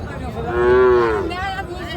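A cow at a cattle market lets out one loud, close moo lasting about a second, rising and falling, with faint crowd noise behind.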